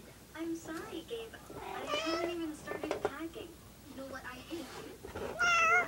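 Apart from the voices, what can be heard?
cat meowing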